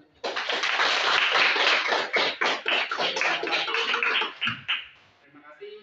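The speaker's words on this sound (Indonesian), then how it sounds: "tepuk tangan untuk kita" Audience applause at a teacher-training session in a classroom or hall, a burst of dense clapping that starts abruptly, holds steady for several seconds, then thins out and fades, with a few words of speech at the end.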